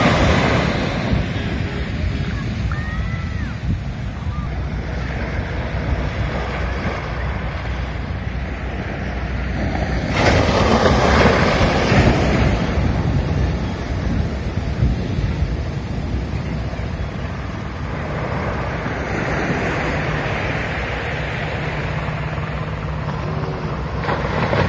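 Sea waves at Madhavpur Beach wash in as a continuous broad roar with heavy wind buffeting the microphone, swelling louder for a stretch midway, with no talk.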